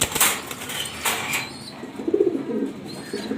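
Light-coloured male Mili pigeons flap their wings in a few quick bursts near the start, close by, followed by soft cooing and rustling.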